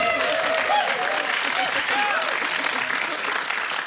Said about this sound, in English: Thank you, audience, for applauding a segment purely on its potential.